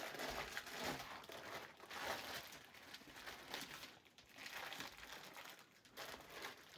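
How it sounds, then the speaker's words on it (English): A plastic bag wrapped around a large beef brisket is sliced open, producing continuous close crinkling and rustling of plastic in uneven waves, with no talking. "let's start off by cutting the bag open"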